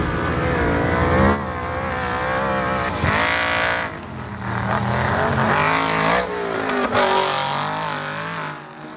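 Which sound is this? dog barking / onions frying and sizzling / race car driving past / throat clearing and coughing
race car driving past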